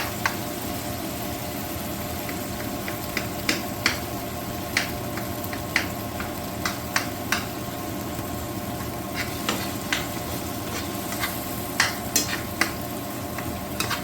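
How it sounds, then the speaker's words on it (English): Tomato and pepper sautéing in a pan over low to medium heat, a steady sizzle broken by frequent sharp scrapes and taps of a utensil stirring, close and alone with no talking. "Here we're sauteing the tomato and the pepper."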